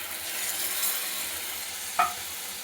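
Boiled pea water pours into a hot pan of mutton ghugni, setting off a steady close-up sizzling hiss throughout, with one brief sharp clink near the end.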